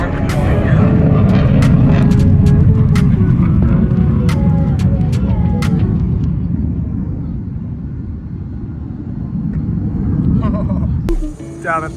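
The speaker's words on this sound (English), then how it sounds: "you hear these planes in the background? They're doing some sweet stuff" Aircraft roar overhead at the Cleveland Air Show near the Rock Hall, a loud steady low rumble that swells and fades slowly across the scene, with scattered short clicks and a voice talking over it near the end.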